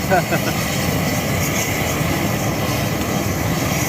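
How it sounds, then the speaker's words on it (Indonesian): An airplane passes overhead above a grave exhumation site, a steady broadband engine drone holding at a constant level throughout, with faint voices in the background. "Suara pesawat kan?"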